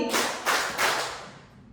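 A class of schoolchildren claps hands in unison three times, three sharp, close group claps in a steady rhythm, each one trailing off into room echo, with no voices over them.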